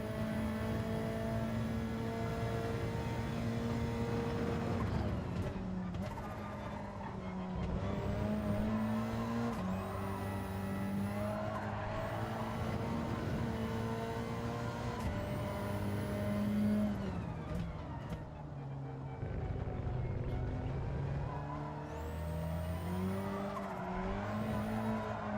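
A race car engine in Gran Turismo 7 Sport Mode howls through the gears, rising and dropping in pitch with each shift, while tires squeal and rival cars roar past.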